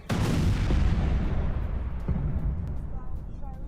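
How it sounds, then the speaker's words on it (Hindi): Heavy shelling explosion in a residential area of Donetsk, a loud close boom with a long rumbling decay that fades over several seconds, with a smaller thud partway through. "रूस अधिकृत इलाके में 13 धमाके किए गए"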